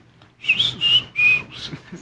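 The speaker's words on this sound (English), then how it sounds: "So very catchy intro. You know, the whistle." A catchy whistled intro to a live song performed at Asia Song Festival 2022 in Korea: a few short, bright whistled notes in a quick melodic phrase, close and clear over a faint background.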